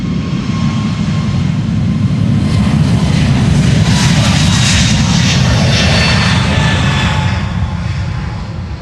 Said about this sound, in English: This is JetBlue, flight 632 to Boston,